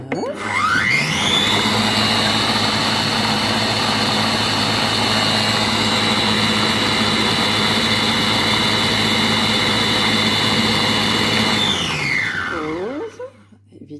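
Compact Cook Pro food processor blending green lentil soup at high speed, a loud steady motor whine that ramps up, holds for about twelve seconds, then spins down to a stop.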